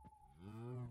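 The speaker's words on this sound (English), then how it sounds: "That is a cow." A cow in the video game Minecraft gives a single short, low, rising moo, faint and with nobody talking.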